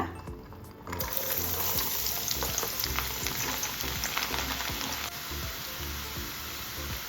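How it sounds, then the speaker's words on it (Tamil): Small chopped garlic pieces frying in oil for Burmese-style street noodles: a steady close sizzle that jumps up after a quiet first second and continues with bubbling crackle, no talking. "இப்போ அதே எண்ணெயில் பூண்டு பாருங்கள் இந்த மாதிரி குட்டி குட்டியாக கட் பண்ணி வச்சுருக்கேன் இதை வறுத்து எடுத்துடலாம்"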